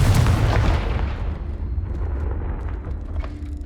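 A Confringo fire spell blast in Hogwarts Legacy on PS5 erupts as a heavy, booming explosion that rolls off into a rumbling decay over a few seconds.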